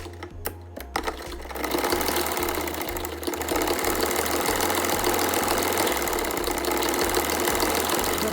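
A sewing machine runs steadily, stitching the front sleeve seam of ladies' trousers, with a brief stop-start at the beginning before a continuous, close mechanical whir with regular needle pulses.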